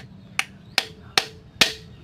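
Hammer blows on a steel freeze plug in an engine block, struck at an angle to remove it: four sharp metallic strikes at an even rhythm, loud and close, with no talk.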